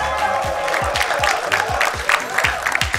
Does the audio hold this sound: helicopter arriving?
no